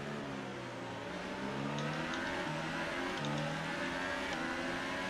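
A Formula 1 car in F1 2018 at Silverstone drones with a high-revving engine whine that climbs and shifts through gears, steady and loud throughout, with no talking.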